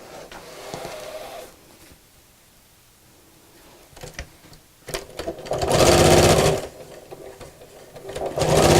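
A sewing machine stitches fabric with elastic, a steady motor whir starting quietly then swelling into louder bursts, with pauses between runs and no talking.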